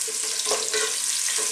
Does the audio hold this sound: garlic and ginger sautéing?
yes